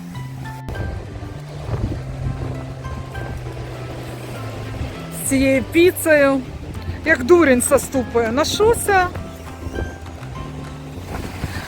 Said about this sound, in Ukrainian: Оце хвилі!